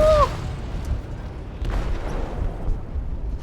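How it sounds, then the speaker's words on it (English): Rumbling aftermath of an explosion in a ship's hold in Detroit: Become Human, a low, dull booming roar with scattered crackles and thuds, fairly loud and continuous, with no talking. "They detonated an explosive in the hold."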